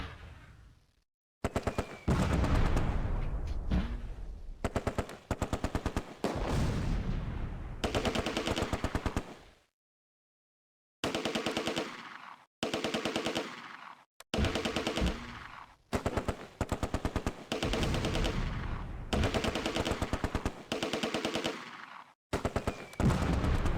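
Machine-gun and rifle fire in the WWII strategy game Close Combat: A Bridge Too Far, loud rapid bursts of automatic fire broken by short silences, with heavier booms mixed in and no talk.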